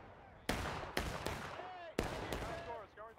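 Rifle fire in the American Civil War game War of Rights, three or four sharp, loud cracks spaced irregularly over a few seconds, with shouted voices between the shots.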